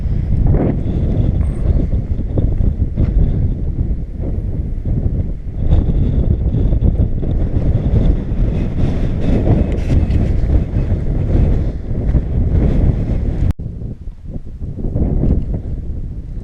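Strong wind on an exposed hillside near Moel Llys pounds the microphone in a loud, sustained roar with rough gusts throughout, easing briefly near the end.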